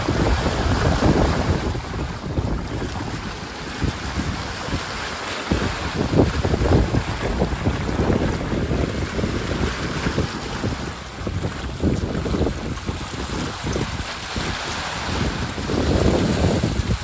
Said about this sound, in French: Et maintenant le vent est au-dessus des 20 nœuds.